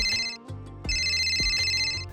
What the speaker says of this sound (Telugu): ఇదేంటి ఫోన్ రింగ్ అవుతుంది?